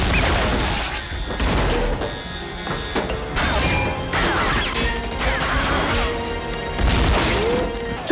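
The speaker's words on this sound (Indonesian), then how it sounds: "dan baku tembak pun terjadi." Gunfire rattles through a film's prison shootout, dense overlapping bangs, crashes and impacts layered with music and effects, loud and continuous across the whole stretch.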